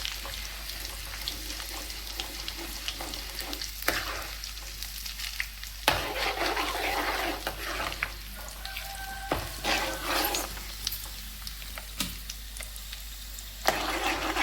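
Gongura chutney with urad dal and curry leaves sizzles steadily in a pan, a continuous close frying hiss with occasional stirring clatters and scrapes and no voices.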